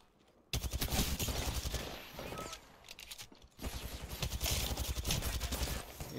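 Dense bursts of rapid automatic gunfire in a first-person shooter game, loud and close, with short pauses between volleys.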